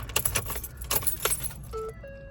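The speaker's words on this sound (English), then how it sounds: "stick another key in the ignition" Keys jangle on a ring as one is inserted into the ignition of a 2014 Ford F-150, a close, bright rattle of several shakes followed by a couple of short electronic tones from the truck.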